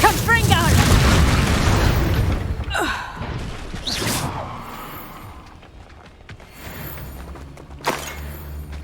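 Confringo blasting spell explosions in Hogwarts Legacy, heavy booming bursts with rumbling tails, one big blast followed by several smaller pops and thuds while a player shouts spell names over them.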